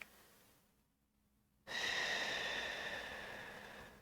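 A person holding a yoga shoulder shrug takes one deep breath, a soft, close airy rush that swells suddenly after a quiet pause and slowly fades, with no talking.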